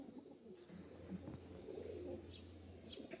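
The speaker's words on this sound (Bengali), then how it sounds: "নর কবুতর" A male pigeon coos softly amid other birds, a low throaty coo near the start followed by faint chirps, heard at low volume against a quiet background.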